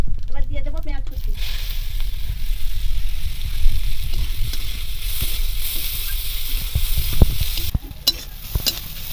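Chopped onions sizzle and spit in hot oil with dried red chillies and whole cumin, a steady loud frying hiss with stirring scrapes throughout and a brief clatter at the start.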